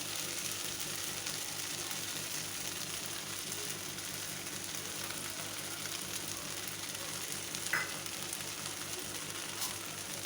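Peanuts fry in a pan of oil for sago upma, giving a steady, close hiss of sizzling with one brief scrape partway through.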